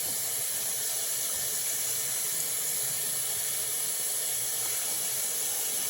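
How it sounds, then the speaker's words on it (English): Tap water runs in a steady, hissing stream over hot roasted peppers in a sink, a constant rushing spray close by that never lets up. "I'm going to let water kind of run inside them"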